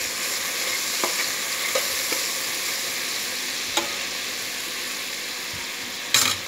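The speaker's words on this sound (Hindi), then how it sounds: "अब हम इसे अच्छी तरह से मिक्स करते हैं।" Vegetable curry with garam masala being stirred in a pan, a constant soft sizzle of oil with a few sharp spoon clicks against the metal, close up and free of speech.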